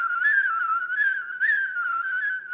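An international grand champion whistler produces a clear, loud, sustained melodic whistle with gentle pitch swoops and brief accents, close and alone.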